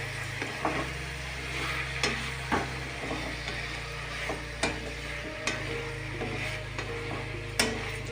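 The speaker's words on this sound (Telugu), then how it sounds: "ఉల్లిపాయలు, టమోటా బాగా మగ్గనిద్దాం." Onions and tomatoes simmering in a pan with a soft steady sizzle, overlaid by a constant low mechanical hum and periodic sharp clicks or taps of a spoon against the pan.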